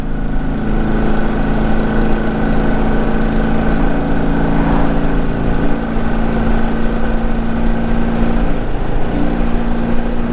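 A Victory motorcycle engine runs on a test ride with a loud, steady, close drone and an even throb that holds without pause throughout.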